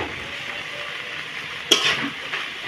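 Potato and eggplant curry with mustard paste and coriander leaves sizzles softly in a pan, broken by one sharp scrape of a spatula stirring partway through, then a lighter scrape.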